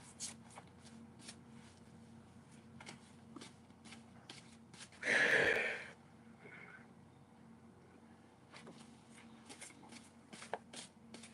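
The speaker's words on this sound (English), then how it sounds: "Let me shuffle up these damn cards." Tarot cards are shuffled quietly near the microphone, with scattered soft flicks and taps and one brief louder riffle partway through, in an otherwise hushed room.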